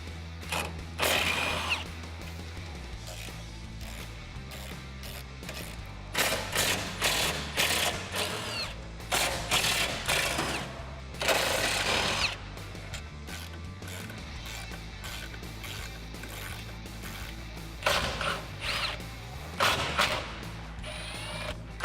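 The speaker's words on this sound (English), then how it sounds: "you're gonna need a 12mm socket and an impact wrench or a hand ratchet, and we can remove all 10 bolts" Bolts coming off the rear bumper of a 2016-2019 Toyota Tacoma with a 12mm socket on an impact wrench or hand ratchet, heard as irregular mechanical bursts of rattling and clicking separated by quieter pauses.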